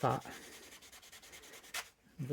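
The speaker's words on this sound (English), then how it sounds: "we're going to take a dry microfiber cloth, and we're just going to rub" A dry microfiber cloth is rubbed back and forth over painted laser-cut brickwork, making soft, rhythmic, close-up scuffing strokes with a few sharper swipes near the end.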